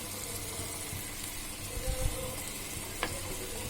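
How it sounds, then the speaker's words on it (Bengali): Gentle, steady sizzle of a whole chicken frying breast side down over low heat, with soft crackles and one brief sharp pop, no voices. "25 মিনিট যাবত আমি বুকের সাইডটা আস্তে আস্তে জালে ভাজতে থাকবো"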